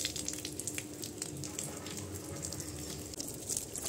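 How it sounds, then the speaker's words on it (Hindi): Water sprays and splashes over a motorbike being washed, a close hissing, spattering stream with irregular bursts and no talking. "वॉश करेंगे पानी से पहले।"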